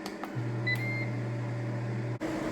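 A Ninja Speedi air fryer on the air crisp setting at 390 degrees, a steady low fan hum starting after a few brief beeps, running evenly before cutting off sharply near the end.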